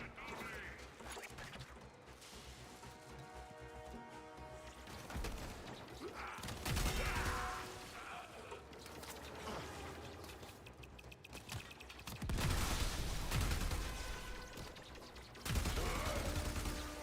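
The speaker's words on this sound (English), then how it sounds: "What is shooting at me anyway?" Video game gunfire from Warframe fills a busy, loud battle mix, with repeated shot bursts and heavier impacts rising every few seconds over a dense backdrop of game effects.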